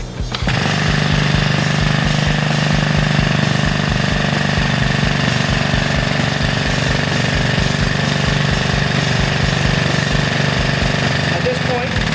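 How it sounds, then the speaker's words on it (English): A Tiger Tool 15040 hydraulic cylinder pulls a bushing into place, making a loud, steady mechanical rattle with rapid pulsing throughout, like a pump or hammering drive, continuous and close. "now we're going to apply some hydraulic pressure, and it should start sucking that bushing in"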